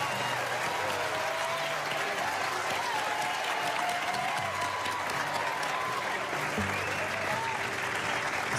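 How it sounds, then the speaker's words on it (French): A crowd gives thunderous applause for a young singer at a Christmas performance, dense steady clapping lasting several seconds with faint voices and cheers mixed in underneath. "Un tonnerre d'applaudissements pour Zayn."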